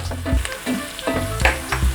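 Chopped onion and carrot sizzle and fry in a pot for a quick broad bean soup, a steady loud crackle broken by the scrape of stirring, with no voices.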